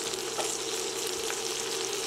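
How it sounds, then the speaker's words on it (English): Seabass fillets frying in a hot pan give a steady, close sizzle with soft crackles throughout, no voices over it. "so we're going to start frying our fish"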